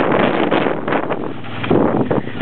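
Strong gusty wind buffets the microphone at a desert campsite, a continuous loud rushing roar with no voices.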